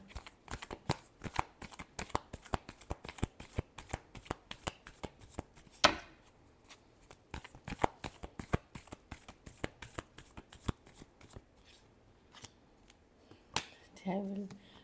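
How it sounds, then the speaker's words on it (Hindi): Tarot cards are shuffled up close in quick riffling bursts, a dense run of sharp snapping flicks with a short pause partway, and a voice speaks briefly near the end. "Last shuffle."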